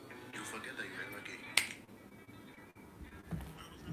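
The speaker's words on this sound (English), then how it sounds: "I snap my fingers." One sharp finger snap cracks out near the middle of a noisy room, standing alone above a steady background murmur with faint talk around it.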